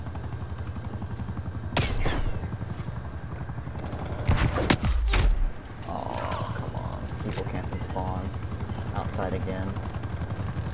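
Chopper gunner helicopter gunfire in Call of Duty Cold War, with a couple of loud bursts and rumbling impacts over a steady background drone, and a single short spoken word partway through.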